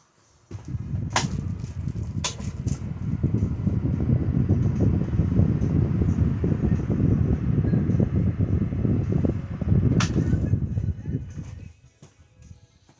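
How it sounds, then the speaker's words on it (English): A GD Midea 16-inch stand fan, model FS40-S5A, whooshes steadily with a broad low rumble, a few sharp clicks as its oscillation is disengaged and it is switched off, then fades away as the blades coast down. "now I'm going to disengage the oscillation and now shut it off"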